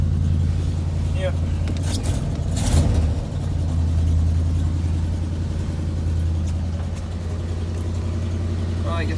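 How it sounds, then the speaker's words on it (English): A 1988 Chevy R30 truck engine runs steadily after a cold start, a loud, close, low rumbling idle with a brief rev swell early on and a faint jangle of keys. "I guess I'll let it run for one more minute. See if I can get it to idle down."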